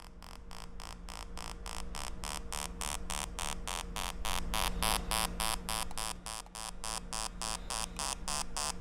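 A buzzing electronic tone from a Vilo pool leak detector pulses rapidly and steadily, growing louder and denser midway as it finds a leak, over a constant low hum.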